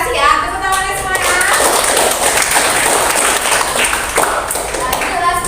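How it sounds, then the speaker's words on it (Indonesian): A class of schoolchildren clapping hands together makes a sustained, dense patter of claps, with voices talking over it throughout. "Tepuk tangannya semuanya"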